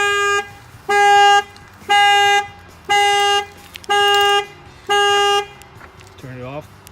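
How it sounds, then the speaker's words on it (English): A 2017 Chevy Camaro car alarm blares in loud, evenly spaced electronic honks, six steady tone bursts about a second apart, followed by a brief rising warble at the end, heard close up. "if somebody tries to break the window, the alarm will fire off"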